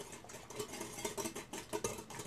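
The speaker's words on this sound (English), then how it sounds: "So I'm just going to whisk these together right now." Wire whisk clinking steadily against a bowl while cold egg is beaten into melted butter for glazed roll dough, a quick, light rhythmic tapping and swishing heard close up and fairly soft.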